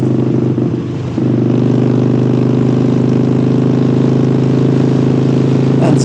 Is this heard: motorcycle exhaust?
yes